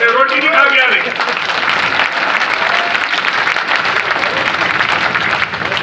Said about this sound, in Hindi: जोरदार तालियों गड़गड़ाहट से